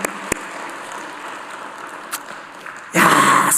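A church congregation at a revival prayer service breaks into loud applause near the end, after a quiet stretch with a few isolated knocks.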